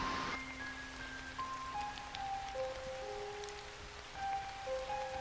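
Steady rain patter falls in the Roblox game Brookhaven, a constant soft hiss of drops on surfaces with faint tonal game sounds over it and no talking.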